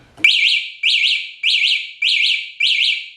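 An E-vader motorcycle alarm with keyless start is set off by shaking the bike: a sharp knock, then five loud, evenly spaced bursts of shrill electronic double-chirps, close and alone.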